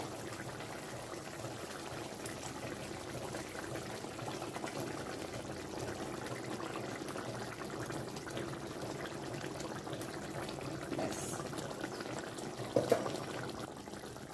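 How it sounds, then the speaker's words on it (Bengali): Water boiling in a pot as pieces of brinjal are added one by one, a low continuous bubbling and rumbling, faint and steady, with a small splash or clink near the end. "জলটা আমার ফুটে উঠেছে"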